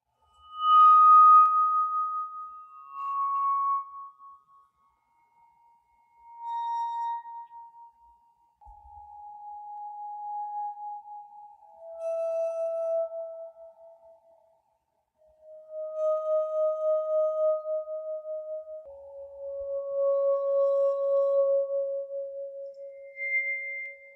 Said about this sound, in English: the glass harmonica became one of the most celebrated instruments of the 18th century